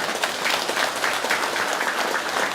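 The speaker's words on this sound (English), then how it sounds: "You like to clap, huh?" Audience applause in a hall during a vegan-themed spiritual lecture, steady dense clapping sustained for a few seconds with no pauses.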